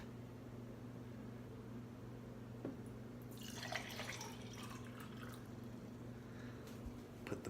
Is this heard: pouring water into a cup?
yes